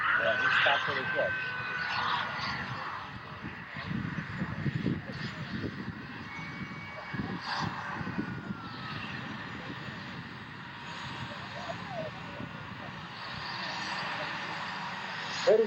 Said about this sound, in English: are the 2 A-10 airplanes coming in for their landing